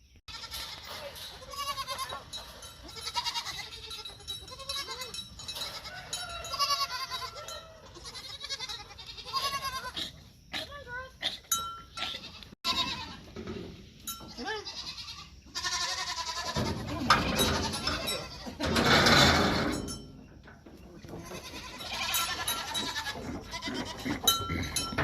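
Dairy goats on a farm bleating repeatedly, several animals calling over one another at close and middle distance, with a cowbell clanking and a loud burst of bleats near the end.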